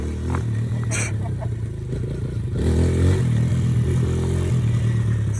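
A 2008 Kawasaki KLX 140 dirt bike engine revs steadily nearby, its harmonic buzz swelling louder midway as the throttle opens, with some clattering mixed in.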